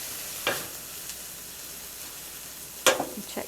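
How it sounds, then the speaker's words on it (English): Beef sizzles softly in a pan being deglazed with soy sauce, a low steady hiss broken by two sharper bursts of spatter and stirring, with no voices. "we'll kind of deglaze the pan just a little bit"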